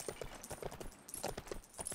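A horse's hooves clip-clop in the LEGO Lord of the Rings video game, a few soft, irregular knocks over quiet background noise.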